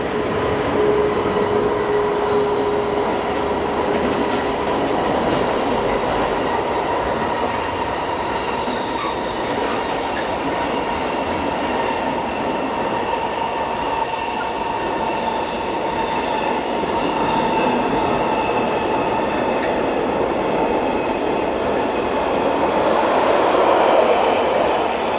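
Two Swiss locomotives haul an intermodal freight train from Italy north up the Gotthard ramp, a long steady roar of rolling wagons with sustained wheel squeal and faint rail clatter, loud and continuous.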